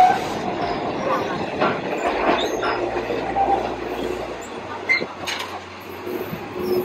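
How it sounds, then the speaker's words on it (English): A train arrives on the Death Railway at Kanchanaburi, Thailand, rumbling along the tracks with squealing wheels and a low hum, moderately close, with some faint voices in the background. "Train that I've just come in on."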